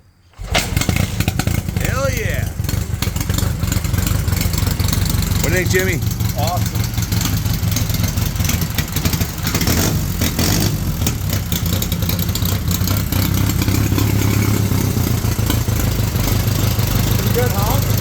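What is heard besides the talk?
1931 Excelsior Henderson KJ motorcycle engine starting and idling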